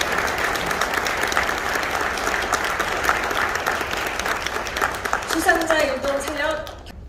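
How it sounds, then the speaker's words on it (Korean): Audience applause at a correctional service award ceremony in Korea, a steady dense clapping that fills the room, then tapers off at the end while a voice speaks over the final seconds. "네, 박수 부탁드릴게요."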